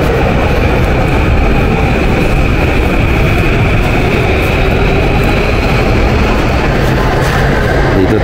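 Train passing on a railway near Tokyo Takanawa Gateway, a loud continuous rumbling roar with rail noise heard nearby and steady throughout, no talk.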